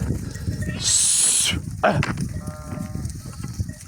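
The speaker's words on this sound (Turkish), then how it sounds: "Koyun gitti kuzular peşine gidiyor." Sheep and lambs bleat nearby, a few wavering calls after a brief hissing rush, against a busy outdoor background.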